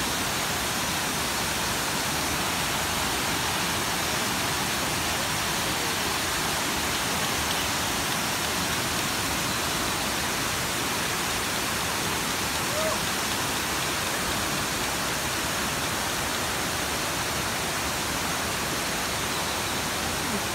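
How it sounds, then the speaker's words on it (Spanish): The Tamasopo waterfalls in San Luis Potosí roar as a steady, even wash of falling water. The sound stays unbroken and moderately faint throughout, as if heard from some distance. "Cascadas de Tamasopo en San Luis Potosí."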